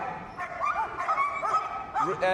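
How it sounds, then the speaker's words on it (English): A West Midlands police dog at a Crufts display barks and yips in short, high, excited bursts during a tug game, close and repeated, with a few whimpering tones. "the dog barks up and wins the tug"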